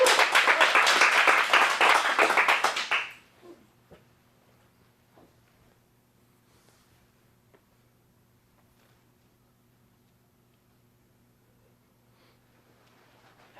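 At an adult acting showcase, an audience applauds loudly and steadily for about three seconds before the clapping stops abruptly. A long near-silent stretch with faint room hum follows.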